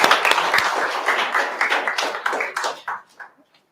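An audience at a live PechaKucha Night event in Sofia applauds with dense, crisp clapping that thins out and fades to silence within a few seconds.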